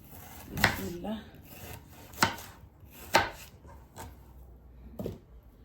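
Small potatoes and vegetables chopped into small pieces with a knife on a cutting board in a home kitchen: about five sharp, separate knocks at uneven intervals, fairly close, with light rustling between them.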